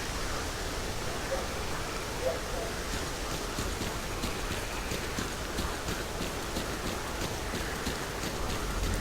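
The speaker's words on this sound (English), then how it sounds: "It's raining, pretty heavy." Heavy rain in the video game Stalker Clear Sky pours as a steady, dense hiss throughout, with scattered sharper drop-like ticks over the continuous wash and no talking.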